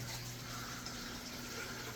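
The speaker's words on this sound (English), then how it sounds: "I also have a circulation pump in there. That's what you hear." A circulation pump keeps rainwater moving in a tank, giving a steady, continuous watery rush with a low mechanical hum beneath it, close and unbroken throughout.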